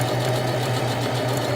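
A sewing machine runs steadily while stitching a seam on a sweatshirt, a close, continuous mechanical hum with a fast even rattle of the needle and no pauses.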